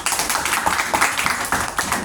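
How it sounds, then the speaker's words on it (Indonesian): Audience clapping hands, a brisk patter of many claps at close range that continues steadily and fairly loud for a couple of seconds. "tepuk tangan dulu"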